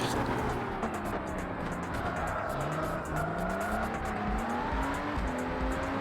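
A Lamborghini racing car in a video game roars steadily throughout, its engine pitch climbing and shifting through gears, loud and close with no voices.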